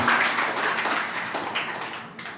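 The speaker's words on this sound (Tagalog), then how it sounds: "Can we give the Lord a clap offering of praise?" Congregation in a church service clapping together as a praise offering to the Lord, a steady dense wash of applause filling the room for a couple of seconds.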